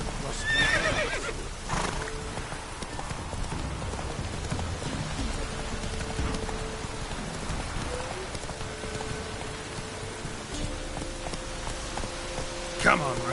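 Roach the horse whinnies and clip-clops through steady rain in a video game, with a voice speaking over the wet, hissing backdrop and a brief sharper call near the end.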